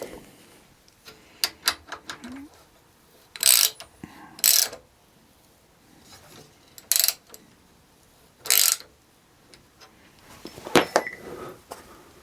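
A ratchet tightens a bolt on a Suzuki DL800 V-Strom motorcycle, giving several short, close bursts of rapid clicking separated by quiet pauses, with light handling knocks between them.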